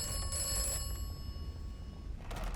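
Faint telephone ringing in the Atomfall video game, a continuous bright tone that holds for about two seconds before fading, set against low, grainy ambient noise.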